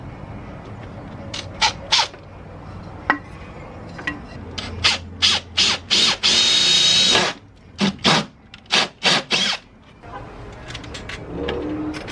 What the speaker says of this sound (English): So I'm just gonna go ahead and drill it, put it right there.